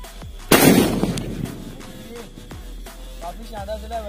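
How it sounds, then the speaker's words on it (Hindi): A foil bomb firecracker from a Diwali stash bursts once with a sharp, loud bang, followed by a crackling, fading echo and a few scattered pops and small crackles outdoors. "यहाँ पे ये फॉइल बम, भाई इसका धमाका देखेंगे किस प्रकार होता है"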